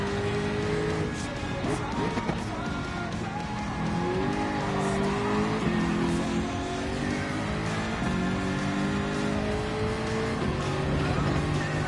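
A race car engine in Gran Turismo 7 roars continuously at close range, its pitch sweeping up and down through gear changes and corners, with occasional tire squeal.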